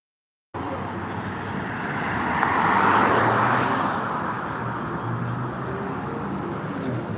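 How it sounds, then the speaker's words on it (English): A large truck playing loud music rumbles past close by, its roar swelling to a peak and then lingering as a steady drone of traffic. "that truck had their music real loud"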